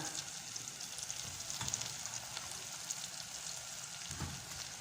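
Kashna, a chopped onion mix for Adeni rice, frying and being stirred in a pan, giving a soft, steady sizzle with faint scraping of the stirring, quiet and close with no talking.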